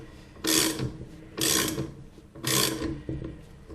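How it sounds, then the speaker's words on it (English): A Lambretta clutch spring compressor is tightened with three separate bursts of ratcheting clicks, each about half a second long, close and distinct against a quiet background, with a final faint click. "And we tighten up the compressor there."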